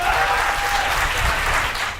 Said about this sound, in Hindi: एक बार ढंग से बजाओ तालियां।